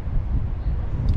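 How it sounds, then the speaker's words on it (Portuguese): Strong gusting wind buffets the microphone outdoors in Thonon-les-Bains, France, a continuous loud low rumble and roar with no break across the whole moment. "Tá um vento, tá difícil até de falar. Tá muito forte o vento."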